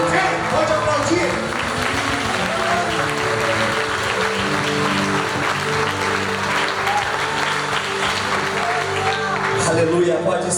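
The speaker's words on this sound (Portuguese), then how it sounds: "Pode aplaudir." A church congregation applauds steadily and loudly throughout, dense clapping with cheers mixed in, filling the space from start to finish.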